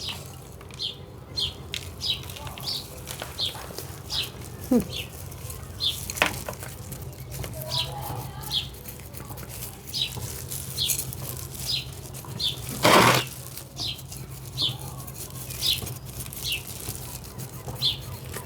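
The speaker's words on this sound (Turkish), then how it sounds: "Kuşlar o kadar güzel ötüyor ki bilmiyorum sizlere kadar geliyor mu sesi" Outdoor ambience with repeated high chirps and tweets from birds scattered throughout, fairly faint and steady, with a brief louder rustle midway.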